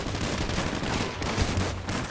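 Gunfire, including 12-gauge shotgun blasts, erupts in a GTA 5 roleplay match on a favela map: a dense, loud, continuous barrage of overlapping shots with no pauses.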